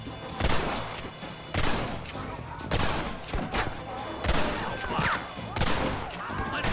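Repeated gunfire in Red Dead Redemption, loud close shots cracking every second or so in uneven volleys over a busy battle din, with a few extra scattered pops between the main blasts.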